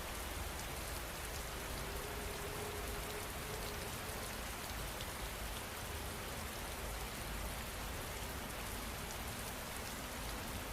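Rain falls in a steady, even hiss, close and constant, with no breaks or other sounds.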